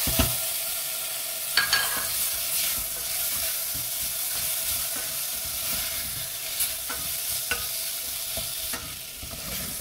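Tomatoes, curry leaves and spices stirred in a hot pan for green peas masala: a constant sizzle under rhythmic scraping strokes and occasional spoon taps on the pan.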